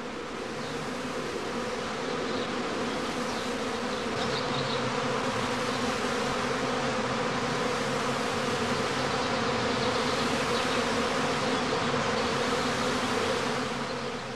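A steady, loud drone of swarming honey bees fills a heather skep apiary during the prime swarming period, an unbroken mass hum holding constant throughout with no voices.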